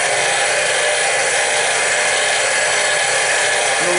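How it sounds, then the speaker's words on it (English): A clipper cutter blade is ground against the abrasive wheel of a Treyco Model 3000 blade sharpener, making a steady, loud broadband hiss and grind that runs unbroken, with no voices. "We'll bring down our cutter blade."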